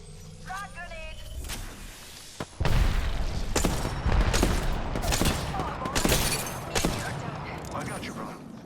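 Video game gunfire rattles in bursts from GBO2, a few sharp shots, then heavy repeated volleys and booming impacts at close range, loud, with voices and game chatter in between.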